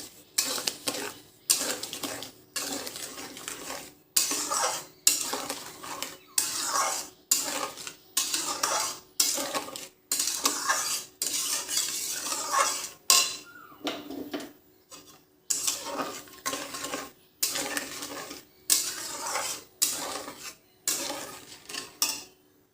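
Mango pulp with dried chilli, salt and sugar being stirred in a pan, the spoon knocking and scraping the metal in a quick regular rhythm of strokes with short pauses between bursts, close and clear, with no talking.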